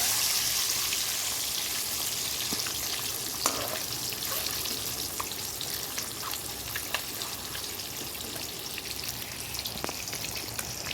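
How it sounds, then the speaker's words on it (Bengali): Peeled boiled eggs fry in a pan of oil, giving a moderate, steady sizzle with scattered small pops and ticks close by and no speech. "ডিমটা ছাড়িয়ে নিলাম দিয়ে ভাজা করতে দিয়ে দিলাম"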